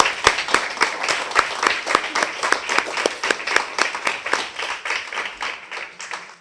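An audience at the Singapore Advocacy Awards claps in slow unison, a steady series of loud, evenly spaced claps that continues for several seconds.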